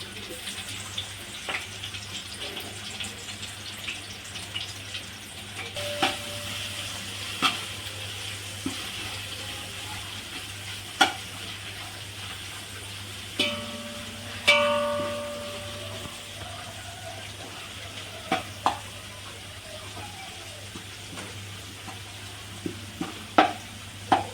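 Garlic frying in oil in a pan for chicken kabsa biryani, with a soft, steady sizzle and occasional sharp clinks of a spoon stirring, fairly quiet throughout.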